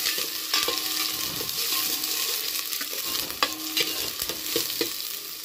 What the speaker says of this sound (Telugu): ఇక అలాగే ఆనియన్స్ వేసేసుకుందాం. ఒక్కొక్కసారి బాగా కలిపేసుకుందాం.